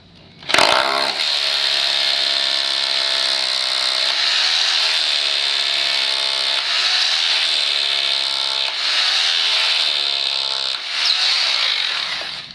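A power driver sinks quarter-inch Phillips-head Tapcon concrete screws into a floor, giving a loud, steady motor whine with a gritty edge. It runs almost continuously for about twelve seconds, with small shifts in pitch and no voices.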